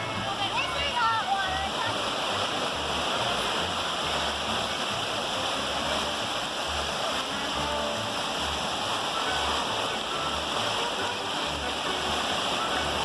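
Hot spring water pouring into the Boiling River in Yellowstone National Park, a steady close rushing and splashing flow that holds constant throughout.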